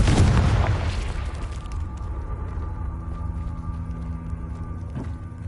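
A Confringo fire spell blasts in Hogwarts Legacy inside a cave, a loud booming burst at the start that decays into a lingering rumble and hum, with a faint second thud near the end.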